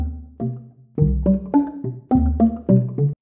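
Wood chime sample patch played in Ableton Simpler, a sequence of short pitched wooden tones in a stepping melodic pattern, each note struck cleanly with brief decay, close and alone without talk.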